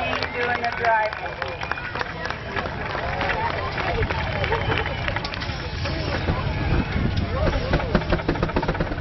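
At an old threshers parade, a Farmall Cub tractor engine runs steadily amid crowd hubbub while a voice talks over a loudspeaker throughout.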